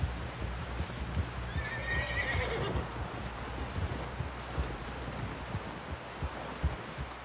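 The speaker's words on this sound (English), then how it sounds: "Someone help John down off this horse." A horse in Red Dead Redemption 2 whinnies once, then its hooves clop steadily in the background.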